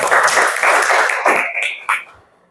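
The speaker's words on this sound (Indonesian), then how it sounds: "Oke, tepuk tangan dulu buat temannya." Classroom applause for a student, a short burst of close clapping from a group that thins out and fades, with one late clap and a cough-like sound.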